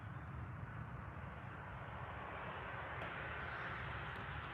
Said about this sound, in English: It's a Ryanair 737-800 that's coming in from Palma de Mallorca.